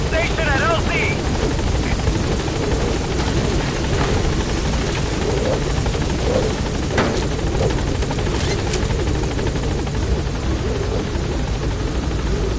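Loud, steady helicopter rotor drone in Metal Gear Solid V as the chopper gains altitude, a constant dense whir filling the whole stretch, with faint radio-style voices underneath.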